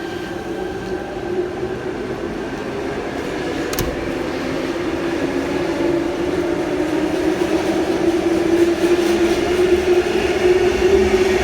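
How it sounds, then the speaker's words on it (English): A Sydney Trains Penrith service pulls away from the platform with a steady, loud rumble and rising motor whine that builds over several seconds, plus a brief high squeal partway through. "that Penrith service is now departing platform number 1"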